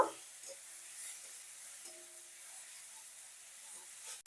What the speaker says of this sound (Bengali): টমেটোগুলো দেওয়ার পর কিছুক্ষণের জন্য আমি এটাকেও ভেজে নেব